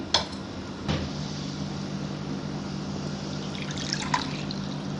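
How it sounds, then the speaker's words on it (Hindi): Broth from white beef korma trickling and splashing as it is poured off the tender cooked meat into a bowl, a soft steady liquid sound over low kitchen hum with a couple of clinks. "इसकी यखनी हम अलग कर देंगे।"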